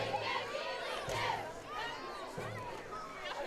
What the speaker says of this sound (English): I will say that the crowd is over on this side, the home team, still in it. Still cheering them on.